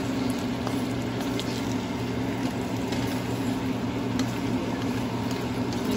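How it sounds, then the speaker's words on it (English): A bow tie pasta stir fry with carrots sizzles steadily in a pan, a constant dense frying hiss close up with no talk over it. "let it, you know, sit and fry together"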